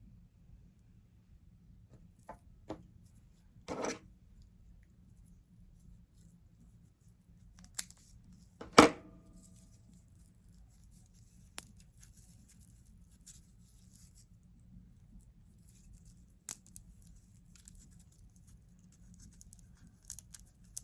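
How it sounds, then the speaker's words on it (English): Seeds being cracked open with garden snips, a few sharp isolated snaps and clicks spaced seconds apart against a quiet background, with no talking. "Crack this with the snips, not with my nails"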